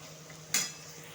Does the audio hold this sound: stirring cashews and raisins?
yes